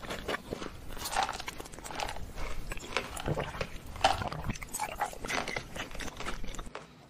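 Steady loud crunching of Takis rolled tortilla chips being chewed close up, repeated bites and grinding with no talking.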